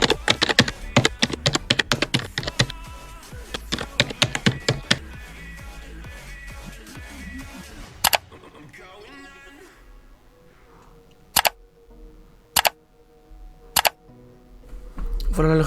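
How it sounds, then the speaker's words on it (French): Rapid keyboard typing clatters for several seconds, then a few sharp, isolated clicks ring out over a quieter background. "j'ai récupéré des bruits de clavier et de clics pour rajouter à la séquence"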